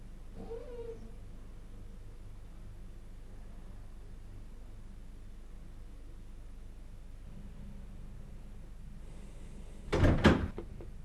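A door shuts with a single sharp thud near the end of a long, quiet indoor stretch of low hum, preceded by a brief faint sound early on.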